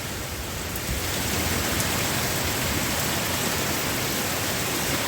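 Heavy thunderstorm rain pours down in a dense, unbroken hiss, loud and steady throughout with no voices.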